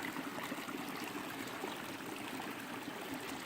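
A mountain stream flows into a lake, a steady close rush and trickle of water with no pauses throughout.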